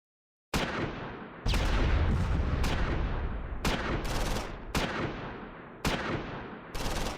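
A medium machine gun opens up in the Close Combat 4 Battle of the Bulge fight at Wiltz, loud sharp bursts of fire and crashing impacts repeating in quick succession after a brief silence.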